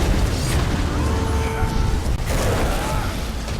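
A barrage ability explodes in a video game, dense booming blasts and mechanical crashes layered over rumbling effects, loud and sustained, with a voice briefly present.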